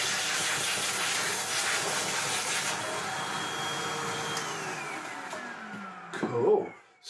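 A 2005 Sebo Felix Classic vacuum cleaner running its hose tool at full suction, a loud steady airy roar with a whining tone that drops in pitch as the motor winds down near the end.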